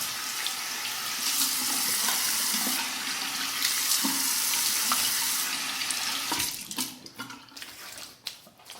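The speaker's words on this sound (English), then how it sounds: "A nice warm and then cold water rinse to finish up." Warm then cold water runs steadily from a tap for a post-shave rinse, a loud continuous splashing stream that thins and breaks into intermittent drips and splashes near the end.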